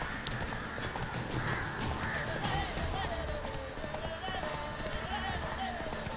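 Horse hooves galloping in The Witcher 3 video game, a rhythmic clip-clop of hoofbeats mixed under game music and ambience while someone talks over it fairly quietly.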